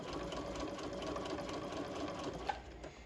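A sewing machine runs a steady basting stitch through bias-cut fabric for a 1/8-inch narrow rolled hem, a continuous close whir of needle strokes with no pauses and no talking.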